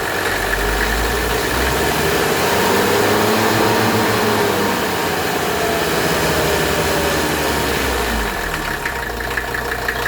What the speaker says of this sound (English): this is a remarkable engine, guys. Look how smooth this idle is.